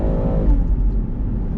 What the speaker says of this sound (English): This engine at high RPM, super, super fruity. Sounds great.